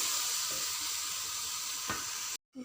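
Tomato and spice masala frying and being stirred for a mutton paya curry, giving a steady close hiss of sizzling with a soft scrape of the spoon before a sudden cutoff.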